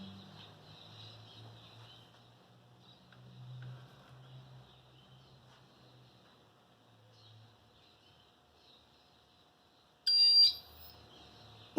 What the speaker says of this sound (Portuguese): Quando chegar em 8 volts, ele vai desarmar. E o bip vai tocar.